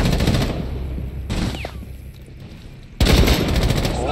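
Bursts of automatic gunfire in the tactical shooter video game Rainbow Six Siege: a loud rattling volley at the start, a quieter gap with a single sharp shot, then another heavy close burst.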